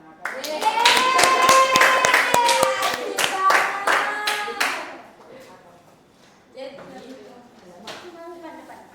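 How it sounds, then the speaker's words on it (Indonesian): Students in a classroom group presentation on customary norms break into clapping, loud rapid hand claps over the first five seconds that thin out into scattered claps amid cheering and chatter. "Jadi tepuk tangan."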